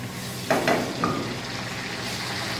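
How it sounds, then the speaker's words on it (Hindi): Whole dry spices dropped into hot oil for chicken biryani give a sudden burst of sizzling that settles into a steady, moderate hiss. "हम सारे खड़े मसाले पहले ऑयल में डालेंगे।"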